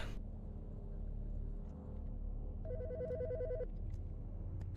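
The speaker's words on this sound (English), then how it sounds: "The fucking phone." A phone rings in Autopsy Simulator, an electronic warbling ring that repeats rapidly for about a second over a steady low ambient rumble, with no voices.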